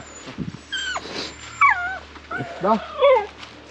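A dog whimpers close by in a string of high, wavering whines and short yips, with people talking around it.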